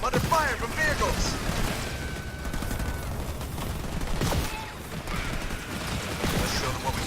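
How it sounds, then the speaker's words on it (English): Gunfire and explosions from attacking vehicles in the Halo Wars 2 campaign, a dense continuous battle din of shots and thuds under a voice speaking. "Spartan Jerome under fire from vehicles."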